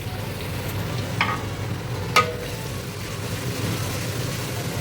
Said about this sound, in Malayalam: ഇനി ഉള്ളി ഇളക്കാം, മറിഞ്ഞിളക്കാം.